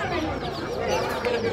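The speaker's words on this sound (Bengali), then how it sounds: "মুরগির বাচ্চা" Young chicks cheep in a busy poultry market at Savar's Kathgora bazaar where ducks, chickens and pigeons are sold, thin chirps mixing with nearby voices and general market bustle.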